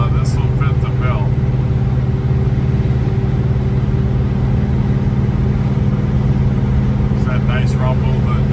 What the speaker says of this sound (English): That nice rumble, the dual exhaust,